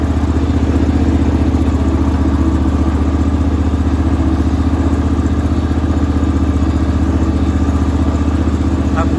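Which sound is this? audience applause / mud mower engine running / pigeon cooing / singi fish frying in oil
mud mower engine running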